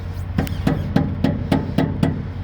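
A hammer taps the metal caps on a tanker truck to check their tightness, giving about eight sharp, evenly spaced metallic knocks at close range over a low engine hum.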